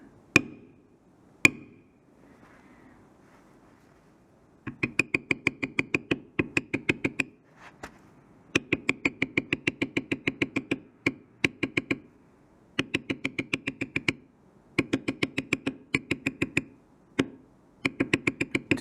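Leather carving a sunflower hat patch with a mallet and stamp, sharp rapid tapping in bursts separated by short pauses, close and crisp, with two isolated harder knocks at the start.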